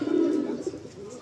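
Madrasi high-flying pigeons cooing close by, a low steady burbling coo that carries on through the whole moment, with a little faint chirping above it.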